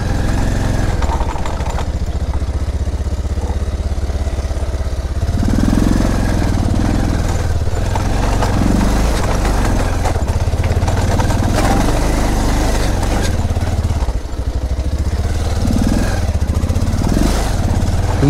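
A motorcycle engine runs steadily close by, a continuous rough mid-low drone with slight swells in revving and no pauses, heard alone without talk.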